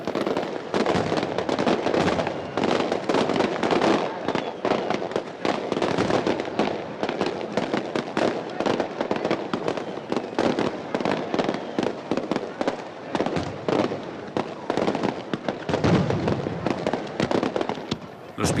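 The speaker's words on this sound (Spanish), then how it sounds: "La semana de los piratas empieza a cañonazos." Cannon shots open pirates week in the Cayman Islands as a rapid barrage of sharp bangs and crackles, continuous and loud, with crowd noise beneath.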